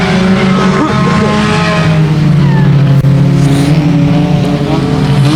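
Race cars roar around the 281 Speedway track in a loud, continuous engine drone with shifting pitch as the cars run down the straightaway, with a commentator's voice buried under the noise.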